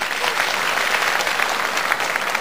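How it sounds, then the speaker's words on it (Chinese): An audience at an erhu competition gives dense, steady, continuous applause to welcome judge Song Fei, with no voices over the clapping. "我们再次用热烈的掌声欢迎他"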